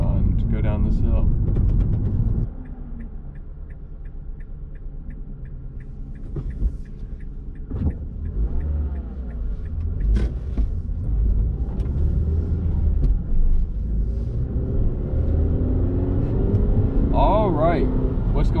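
A car rolls down a steep mountain hill, its engine and road noise a low continuous rumble with brief knocks and clicks, while a person talks over it at intervals.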